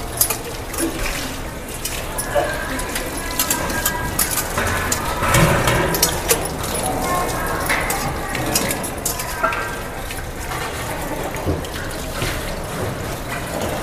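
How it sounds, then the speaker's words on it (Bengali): Metal plate being washed by hand with soap after a meal at a Mayapur communal dining hall, with clinking metal, splashing and running water in a steady, busy clatter. "এখানে কিন্তু নিজের থালা নিজেকেই ধুতে হবে খাওয়ার পরে"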